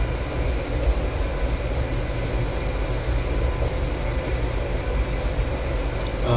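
Freight train passing in the farming game Farming Simulator 2015, a loud continuous rumbling roll of rail cars with steady clickety-clack, close and unbroken for several seconds, no voices.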